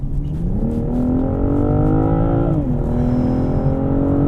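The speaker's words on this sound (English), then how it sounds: "I'm going to floor it and see how this feels" A BMW M440i pulls hard at full throttle from about 30 mph, its engine note rising steadily, dipping briefly at a gear change, then climbing again, loud and close from inside the cabin.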